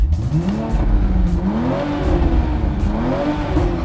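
A 2020 Toyota Supra engine in sport mode revs loud and close, its pitch climbing and falling in repeated sweeps over a throaty exhaust roar, with no voices.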